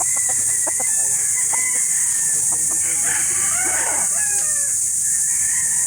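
Roosters of the Kelso Sweater gamefowl line at a livestock market, clucking and calling close by over a constant background hum, with people talking nearby.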